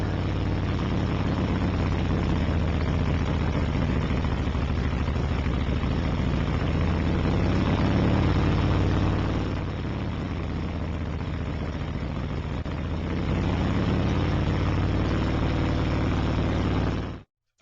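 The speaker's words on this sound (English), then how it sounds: "bringing the motor up to about 1800 to 2000 RPM in neutral and finding the spot of adjustment where the motor runs the smoothest" A motorcycle engine with Techlusion fuel injection tuning runs steadily in neutral at about 1800 to 2000 RPM, with a loud, continuous, even drone that dips slightly midway and then cuts off at the end.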